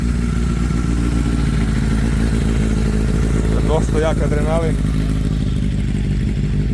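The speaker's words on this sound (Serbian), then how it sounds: "Unutra je Suzukijev motor od 600 kubika." A drag racing vehicle powered by a Suzuki 600cc engine sits running at a drag race on the Ponikve airfield near Užice, its steady low engine drone continuous and loud beneath someone talking.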